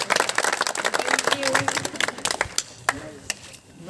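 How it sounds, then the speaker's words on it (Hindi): An auditorium audience claps to welcome a guest at a university event, scattered uneven hand claps, some close and sharp, with voices heard among them as the clapping thins out. "तालियां बजा दो।"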